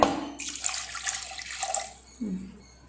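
Water poured into a cooking pot holding washed jackfruit seeds, a steady splashing pour that starts abruptly, runs close and fairly loud for about two seconds, then stops.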